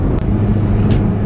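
A white car driving along hilly roads in Jamaica, its engine a steady close drone with a couple of brief higher hisses, no talking.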